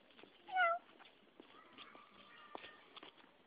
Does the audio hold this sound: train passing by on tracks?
no